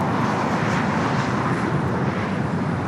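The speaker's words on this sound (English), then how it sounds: "The Dreamliner heading back to Casablanca, heading up there for north side at takeoff." A Boeing 787 Dreamliner takes off from the north side of LAX, its jet engines producing a loud, steady, broadband roar that holds without a break throughout, with no voices.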